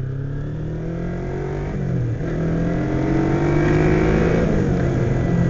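A 2007 Kawasaki Ninja 250 motorcycle engine revs up steadily, its pitch climbing smoothly over several seconds, loud and close with no sharp surge in power.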